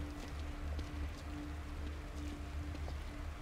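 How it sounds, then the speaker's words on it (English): Rain bounces off surfaces in The Evil Within video game, a dense, steady hiss of drops with faint patters, continuous and close throughout. "look how that rain is just bouncing off"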